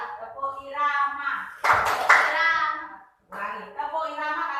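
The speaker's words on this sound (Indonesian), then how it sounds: "Kita tepuk irama." Classroom of students clapping a rhythmic pattern in unison, a burst of claps in the middle framed by children's voices and a teacher speaking before and after.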